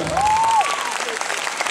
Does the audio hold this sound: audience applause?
yes